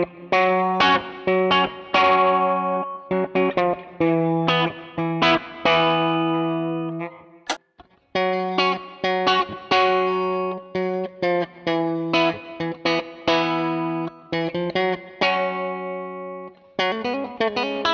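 Telecaster electric guitar with a coil-split pickup, played through effects, rings out in clear picked notes and chords with short gaps, close and fairly loud, with no voices.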